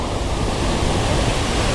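A large waterfall roars as a steady, dense wash of noise, loud and close with no pauses, heard from near or behind the falling water.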